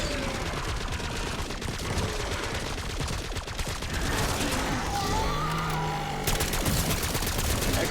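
Gold shotgun blasts and dense gunfire in a loot shooter, with rapid overlapping shots and booms filling the mix, loud and continuous against a busy game background.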